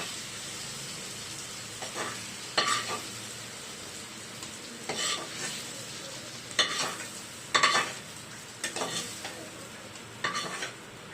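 Onions sauté in a pan for chutney: a soft continuous sizzle broken by regular scraping strokes of a spatula against the pan, close and unhurried, with no talking.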